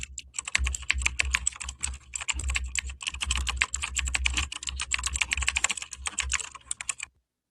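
Rapid typing on a computer keyboard, a dense run of close, crisp key clicks at an uneven rhythm lasting about seven seconds before stopping abruptly into silence.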